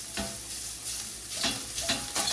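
Ground sausage sizzles steadily in a pan over medium-low heat, cooked for ramen noodles, with a few stirs scraping through the frying hiss.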